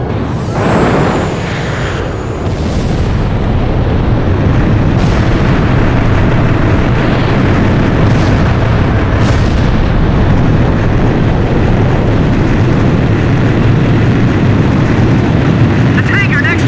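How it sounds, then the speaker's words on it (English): A tanker ship explodes in an Ace Combat flight game: a loud initial blast with whistling debris, then a long dense rumble of fire and continuing booms, with radio chatter voices mixed in throughout. "The tanker next to us just exploded!"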